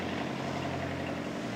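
A propeller aircraft flies near Christchurch airport, giving a steady, loud droning hum with a throbbing engine tone throughout.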